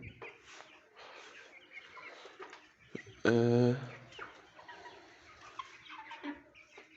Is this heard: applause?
no